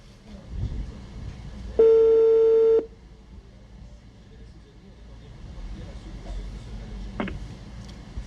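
A telephone tone sounds once as a steady one-second electronic beep before the call is answered, against a quiet background with faint voices and a short click later.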